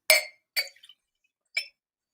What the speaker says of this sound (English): I'll pour it into one glass. I will take a second empty glass